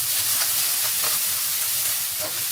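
Dried chili peppers sizzle in a spoonful of very hot oil in a wok, cooked for sour and spicy shredded potatoes; a loud, steady, close frying hiss fills the whole stretch with no talking.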